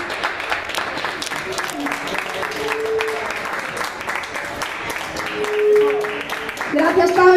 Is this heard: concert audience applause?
yes